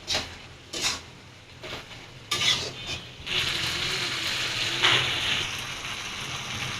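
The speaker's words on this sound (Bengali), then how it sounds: "এবার ভালো করে নেড়ে ঢেকে দেব।" Chili beef fries in a pan, first with a few scraping stirs and then a steady, close sizzle with occasional spatula clinks.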